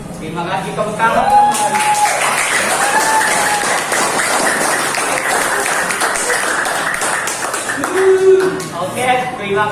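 A classroom of students breaks into a burst of applause, dense clapping that lasts several seconds while a few voices carry over it and continue briefly after the clapping fades.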